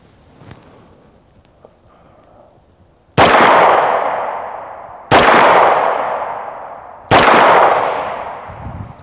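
Three loud, sharp 9mm pistol impacts strike AR500 steel body armor, evenly spaced about two seconds apart, each ringing out with a long decaying tail after a quiet start.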